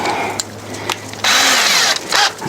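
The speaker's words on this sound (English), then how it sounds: "so drill those 2 holes, and we should be able to bolt it right up" A power drill whines close by in short bursts, rising as a 1/8-inch bit bites into metal, then easing off between pushes, drilling bolt holes for a step on a Kioti CK series tractor.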